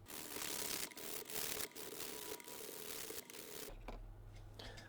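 Fine 2000-grit sandpaper rubs steadily across a guitar body, a soft continuous scratchy swishing in repeated strokes that eases off near the end.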